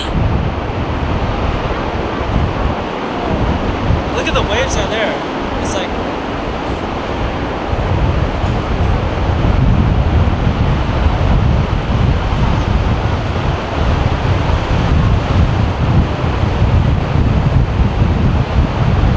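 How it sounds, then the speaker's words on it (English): Wind and surging waves near Perito Moreno Glacier in Patagonia roar continuously and loudly, with heavy low rumble and wind buffeting the microphone, swelling stronger in the second half. "Look at the waves out there."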